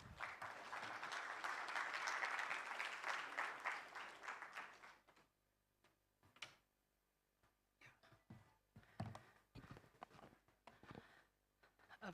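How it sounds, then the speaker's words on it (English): Conference audience at a Bangalore tech summit breaks into loud, dense applause for about five seconds, then it thins out into scattered claps, shuffling and small room noises. "A big round of applause to Dr."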